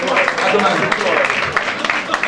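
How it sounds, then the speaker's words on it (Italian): Audience applause at a national gathering of cartoon cover bands in 2015, a dense lively clatter of many hands with voices talking over it close by. "Un applauso a Iane."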